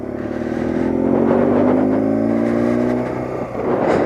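A 1978 BMW R80/7 motorcycle with freshly rebuilt carburetors accelerates steadily through second gear, its engine note rising in pitch and holding loud and close with a brief dip near the end as it shifts.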